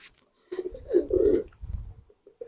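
A pigeon, a bird raised for flying, gives a few low, throaty coos close by, a soft rolling burble repeated briefly with quiet gaps between.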